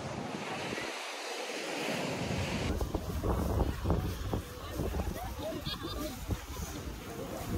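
Surf and gusting wind at Kota Sandbar on Bantayan Island, Cebu, with a steady wash of waves and heavy wind buffeting on the microphone throughout, loud and continuous.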